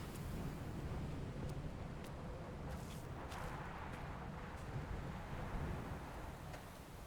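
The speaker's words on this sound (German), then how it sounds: "Ja, hier pfeift der Wind aber." Wind blows across an island in the video game Dear Esther, a low, steady rushing gust with a faint surf-like roar and a few soft ticks, heard alone and fairly quiet throughout.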